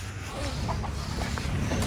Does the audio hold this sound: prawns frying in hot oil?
no